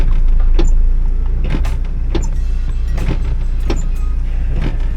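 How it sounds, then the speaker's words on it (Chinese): Windshield wipers on a Suzuki Solio sweep in heavy rain, making a strange noise even though they sit flat on the glass. Repeated scraping thumps come roughly every second over a constant loud wash of rain and car rumble. "雨刷其实没有跳，雨刷很服帖哦， 可是一直有很奇怪的声音"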